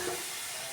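Grated coconut and jaggery frying in a pan for Bengali coconut laddoos, a brief steady sizzle with stirring, close and moderately quiet, no voices.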